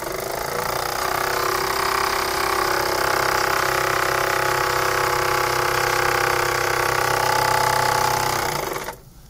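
A small model steam engine runs with a steady, continuous mechanical whir and rapid chugging. It is close and fairly loud and keeps an even pace throughout, then stops near the end.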